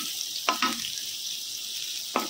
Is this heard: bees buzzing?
no